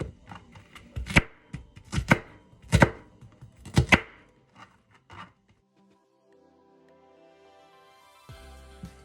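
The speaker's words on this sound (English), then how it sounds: "we're going to chop a quarter of the onion to go with our meat" An onion chopped with a knife on a board for chili, a run of sharp close knocks in an uneven rhythm that stops, followed by a quiet stretch and faint clatter.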